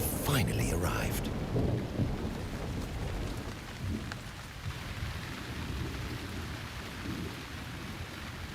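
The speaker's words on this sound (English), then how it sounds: "Out on the distant plains, the summer rains have finally arrived." Summer rain and thunder on the open plains: a loud rumbling thunderclap at the start, then steady heavy rainfall hissing on the ground.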